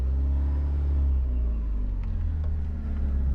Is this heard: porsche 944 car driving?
yes